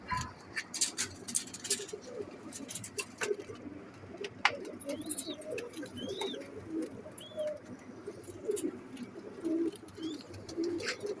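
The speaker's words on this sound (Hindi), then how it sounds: "बहुत अच्छे कबूतर हैं" Red-eyed pigeons cooing repeatedly at close range, soft throaty calls with some brief chirps and a few faint clicks in between.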